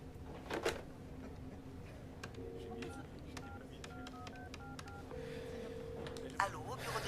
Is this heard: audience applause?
no